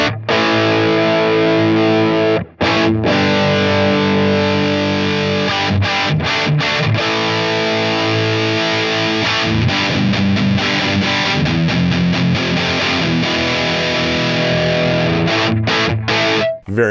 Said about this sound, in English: this is going to be based on an orange amplifier, the Rocker 30